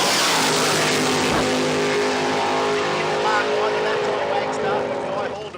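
Radial drag car with a roughly 520 cubic inch Noonan Hemi and screw blower making a run at Willowbank, a loud roaring engine fading as it pulls away, with a commentator talking over it.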